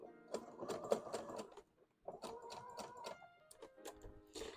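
A sewing machine stitches in short, quick mechanical runs with brief pauses between them, sounding close but quiet, while fabric is sewn for a pony hat.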